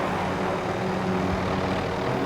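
Helicopter in the Warzone video game, a steady low engine drone and rotor hum that holds constant throughout, fairly loud and with no speech.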